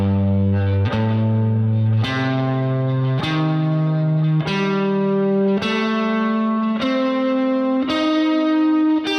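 Electric guitar plays a minor 7 flat 5 arpeggio through effects such as chorus and distortion: about eight single notes ring out one after another in an even, steady rhythm, each sustaining with a bright, processed shimmer.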